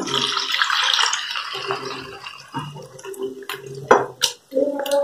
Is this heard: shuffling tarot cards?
no